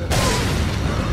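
Flash grenade detonating in Resident Evil 4, a single loud, full-bodied boom that fills the moment and holds as a dense roar, with no talk over it.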